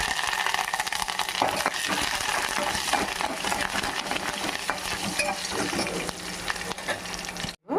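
Curry leaves sizzling in hot oil during the tempering for a hotel-style tomato dal: a dense, steady frying crackle with stirring, close up and without speech, ending in a sudden cutoff.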